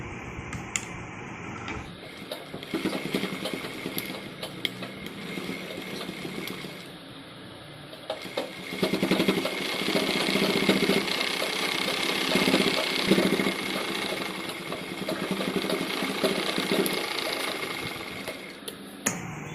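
A sewing machine stitches a zipper handbag in rapid mechanical bursts, pausing briefly partway through before running again more loudly and steadily, close at hand.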